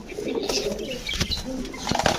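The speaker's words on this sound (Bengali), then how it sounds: "সব বাঘা প্যাটার্নের কবুতর" Several tiger-patterned pigeons coo in soft, throaty bursts close by, with faint chirps and a light rustle of movement.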